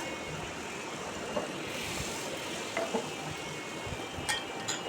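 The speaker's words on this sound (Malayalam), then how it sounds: "ഇനി ഇതേ ഒരു പാൻ അടുപ്പത്തേക്ക് വെച്ച് അത് ചൂടാവുമ്പോൾ അതിലേക്ക് ബട്ടറാണ് ഇട്ട് കൊടുക്കുന്നത്" Butter, or optionally ghee, melts in a hot pan on the stove with a faint, steady sizzle and a few soft clicks and scrapes.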